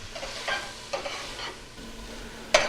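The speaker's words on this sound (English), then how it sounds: "let me go back and stir my onions and garlic" Onions and garlic being stirred in a frying pan for an Italian sausage sauce, a soft steady sizzle with a few scraping stir strokes and one sharper utensil knock near the end.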